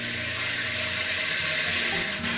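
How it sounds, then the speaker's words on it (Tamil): Water runs steadily from a kitchen tap into a cooking pot, a continuous rushing pour with a slight change near the end. "இப்போ இந்த பாத்திரத்தில் தண்ணி நம்பிட்டுருக்கு"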